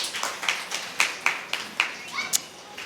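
An audience at a Tamil pattimandram debate gives a rhythmic clap, about eight evenly spaced claps, fairly close and not very loud, with faint voices underneath.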